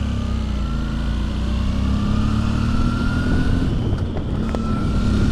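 A motorcycle cruises along a road on a Normandy road trip, its engine droning steadily and loud throughout with a slight pitch rise and fall as it shifts, wind rushing over the microphone.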